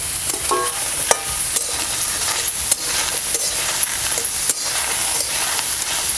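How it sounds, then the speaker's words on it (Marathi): Green tomatoes and garlic cloves dry-roast in a pan without oil, giving a steady soft sizzle and hiss with occasional sharp pops and ticks as pieces shift against the hot metal. "आपल्याला हे टमॅटो भाजून घ्यायचं अगोदर तेल पण घालायचं नाही काय नाही असंच आपल्याला हे भाजून घ्यायचं"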